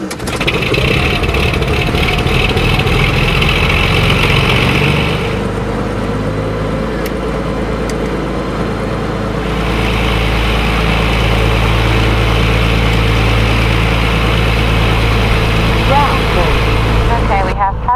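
A Columbia 400 light aircraft's piston engine starts and settles into a loud, steady idle, a deep droning rumble that runs throughout while someone talks over it.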